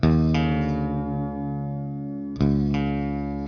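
A distorted electric guitar note rings out and its pitch slides downward as it is retuned, then the string is struck again and sustains.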